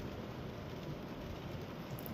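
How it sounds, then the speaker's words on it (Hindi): Rain falls steadily during a highway drive between Germany and France, a soft, even hiss of drops heard from inside the vehicle. "बारिश हो रही है, मौसम बहुत अच्छा"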